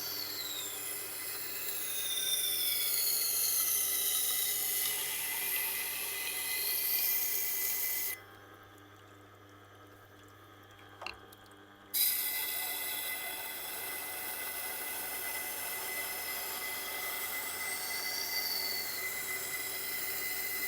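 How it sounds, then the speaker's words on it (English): Knife blades being sharpened on a 400 grit CBN wheel, a steady high grinding whine close by that cuts out briefly midway with a small click, then resumes. "this 400 grit CBN seems to be doing the job on the knives that are in good condition"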